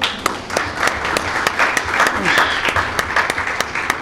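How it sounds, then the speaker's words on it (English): An audience claps steadily in welcome of chief guest Major (R) Amjad Shoaib at a talent event, dense applause running throughout with sharp individual claps standing out near the listener. "Please give him a big round of applause."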